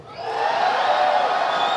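A large BlizzCon 2017 esports crowd at the Heroes of the Global Championship finals rises into loud whooping and shouting, a dense sustained roar of many voices filling the hall for under two seconds.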